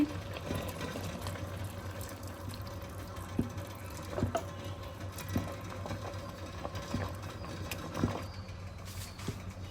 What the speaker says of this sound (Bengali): এই পর্যায়ে আরও 1 কাপ গরম পানি দিয়ে দিচ্ছি।